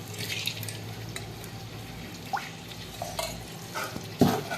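Oil going into a hot pan for Maggi noodles gives soft frying crackle with stirring scrapes and a few sharp clatters, fairly close, with no talking.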